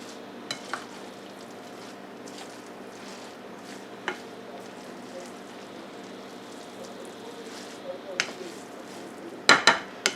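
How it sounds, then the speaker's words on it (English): Eel cake mixture with breadcrumbs and millet being stirred in a bowl gives a soft, steady scraping and rustle, punctuated by a few light clinks and a louder clatter of utensil on dish at the end. "Get that stirred up real good."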